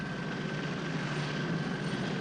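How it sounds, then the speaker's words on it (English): Steady, loud helicopter rotor and engine roar with no breaks, as the helicopter hovers close overhead above a moving train. "We've got a helicopter hovering above the train."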